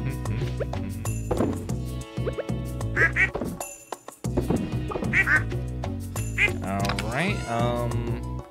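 Cartoonish duck quacks from the farming video game Stardew Valley, several bright calls scattered over cheerful game music while someone talks throughout.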